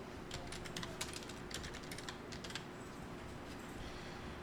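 Fast typing on a computer keyboard while entering a style name in a Korean word processor, a run of light, irregular clicks that thin out in the second half, faint and close over a steady low hum.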